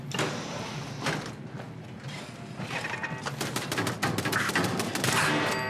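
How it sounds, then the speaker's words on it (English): Automatic turret fire in the video game Fallout 4 crackles in dense bursts of rapid shots that grow busier and louder toward the end, set over a steady game background hum. "I don't know why you're getting shot at."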